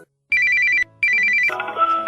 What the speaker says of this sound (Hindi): कुछ ही सेकंड्स में आपके फोन की घंटी बजी।